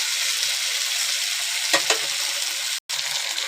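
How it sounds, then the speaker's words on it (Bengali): Taro and potato pieces fry in hot oil in a pan, giving a steady, loud sizzle with a couple of scraping stirs and one brief drop-out. "একটু সময় ধরেই ভাজবে, যে কচুটা আলুটা একটু ভালোভাবে যেন ভাজা হয়।"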